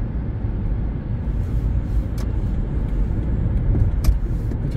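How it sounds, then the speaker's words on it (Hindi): Steady road traffic roar from cars and buses in slow, congested lanes, a continuous broadband rumble with occasional faint hisses and clicks, no voices. "पता नहीं क्या वजह इतनी ट्रैफिक।"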